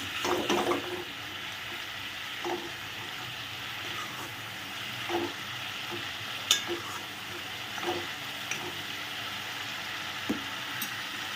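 Egg curry masala with Kashmiri chili stir-fried in a pan, a soft continuous sizzle under periodic scraping stirs, close and moderately quiet.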